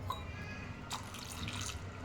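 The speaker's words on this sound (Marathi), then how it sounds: "तुम्ही बघू शकता एवढं पाणी झालेलं आहे, तरी मी थोडंसं अजून घालते" Water poured into a cooking pot for a Punjabi gravy in a home kitchen, a soft, steady trickle and splash, fairly quiet and close, with no speech.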